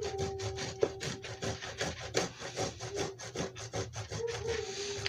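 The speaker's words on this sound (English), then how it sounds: "grating some ginger up" Fresh ginger with its skin left on is rubbed against a small grater, a close, rhythmic rasping of quick strokes repeated steadily, with a faint tone humming underneath.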